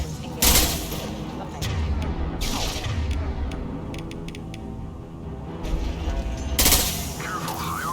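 Mass Effect 2 combat with gunfire: sharp bursts of automatic weapon fire and single shots in clusters, loud and close, over mechanical game noise, with voices speaking in between.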